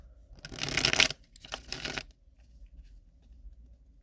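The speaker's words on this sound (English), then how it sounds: "One more shuffle." Two quick bursts of tarot cards being shuffled close by, a longer riffle then a shorter one, followed by quiet room tone.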